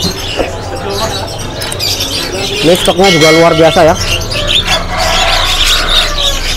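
Male loper canaries chirp in a busy Pramuka bird market stall, their bright tweets and trills scattered in the background while someone talks over them near the microphone.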